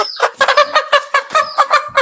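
A hen being handled and looked over clucks in a rapid, repeated run of short, close, fairly loud calls, a dozen or so in quick rhythm, with no talking.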